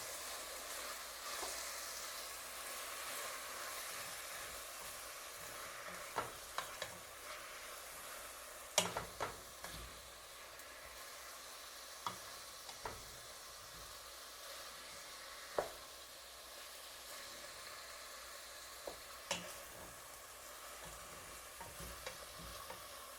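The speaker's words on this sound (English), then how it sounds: "I am going to add the meat. And then we just brown the beef." Beef browning with onions in a pot for beef soup, a steady close-up sizzle throughout, broken by scattered sharp clicks and scrapes of stirring.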